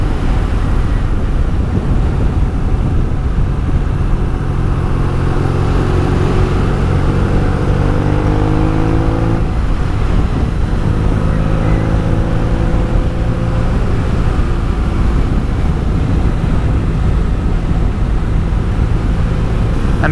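A motorcycle cruises steadily along open Spanish roads, its engine a constant droning hum with shifting tones and a rush of wind noise over the whole ride.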